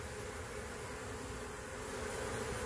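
A dense, steady buzzing of many honey bees at a small hive fills the air, a continuous droning hum close by with no voices.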